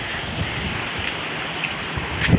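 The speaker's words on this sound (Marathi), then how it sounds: "पूर्ण समुद्र खवळलं आहे. किती हवा आहे बघा." Strong wind roars steadily against the microphone over the heavy wash of a rough, churning sea, with no voices.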